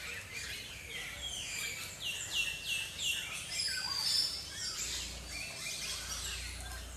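Cartoon birds in a forest chirp and tweet in quick, bright overlapping calls, several voices repeating in bursts at moderate distance over a low background rumble.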